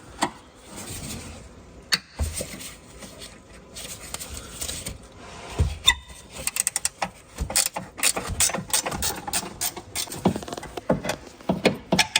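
Engine mount bolts come off a third-generation Nissan Cube 1.6 Z12 during gearbox removal, heard as rapid ratchet clicking in bursts with metallic clinks and knocks, close and moderately loud, with no talking.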